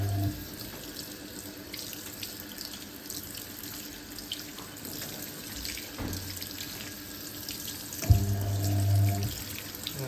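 A Hoover 1400 heavy-duty washing machine filling with water for a regular wash, a steady low rush of running water with a louder surge near the end.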